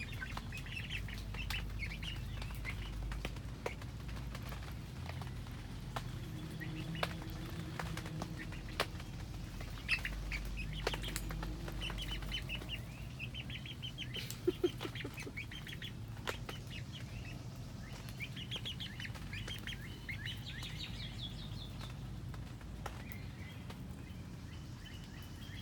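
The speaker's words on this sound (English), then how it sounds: "These are happy, happy chickens today." Backyard chickens scratching and moving about after days cooped up, with a few soft clucks and wing flaps over steady low rumbling background noise; no distinct crowing, sounds fairly close and continuous.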